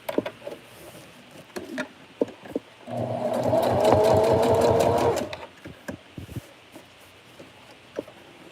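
A sewing machine stitches fabric pieces together in a loud, rapid run of about two seconds, framed by scattered clicks and handling noises of fabric being positioned before and after.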